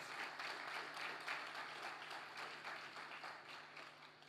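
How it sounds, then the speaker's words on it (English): Audience applause for the staff at a public bodies corporate governance awards ceremony, a steady wash of many hands clapping that holds for several seconds and tapers slightly toward the end. "Please give them a round of applause"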